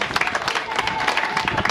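A crowd at a public address applauds with dense, continuous clapping at moderate volume, with a voice heard faintly beneath.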